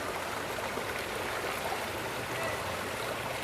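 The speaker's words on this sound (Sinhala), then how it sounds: "ඔන්න ඉතින් වතුර අයින් ගන්නවා." Steady rushing, splashing water pours continuously without pause as it is drained from a cooking pot, close and fairly loud throughout.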